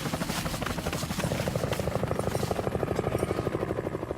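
Helicopter in the Vietnam War in 1968, its steady rapid rotor thumping loud and close, with the beat sharpening toward the end.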